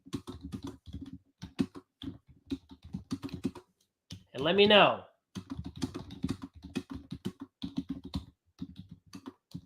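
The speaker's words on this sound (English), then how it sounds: "let me type something else." Rapid clicking keystrokes on a computer keyboard while typing a message into a private WebEx chat, steady bursts of taps interleaved with someone talking, with a short break where a different sound cuts in.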